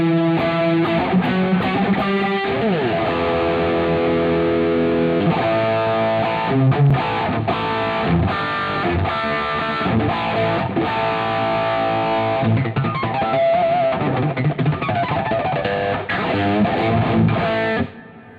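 Electric guitar played through a Guitar Rig 5 Jump amp model with light reverb, a loud, distorted, steady run of chords and riffs that rings out and stops abruptly at the end, with no talking.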